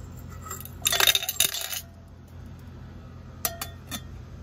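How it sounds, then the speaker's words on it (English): A handful of small silver-gold karat alloy pieces clatter and clink into a container in a quick burst, followed by a few lighter, scattered clinks. "silver gold alloy. We're gonna add that here."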